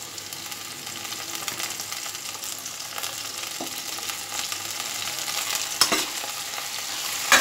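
Drumstick flowers being stirred into frying eggplant and potato in a pan: a steady sizzle runs throughout, broken by occasional scraping strokes of the spatula, close by and with no talking.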